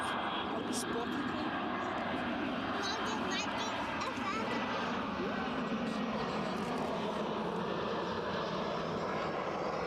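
A plane touches down on the runway at Edinburgh Airport, its broad engine roar steady and fairly distant, with talk running over it throughout.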